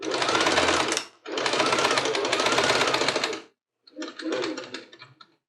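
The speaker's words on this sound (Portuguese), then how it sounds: "eu vou fazer uma costura à distância de um pé de máquina no comprimento que eu marquei" Three bursts of a sewing machine stitching a seam on a fabric mixer cover: two long, loud runs separated by a brief pause, then a shorter, softer run after a gap.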